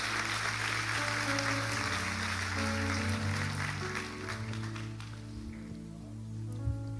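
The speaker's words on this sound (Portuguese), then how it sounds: "Dê o melhor aplauso" Applause from a church congregation during an evening service, a dense rain-like patter of clapping over sustained keyboard tones that thins out over the last few seconds.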